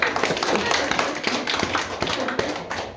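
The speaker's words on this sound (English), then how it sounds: "And I think that deserves an applause." Guests at a family birthday party applaud Mum during a speech, with dense, close clapping and a few taps and thumps continuing throughout, amid faint voices.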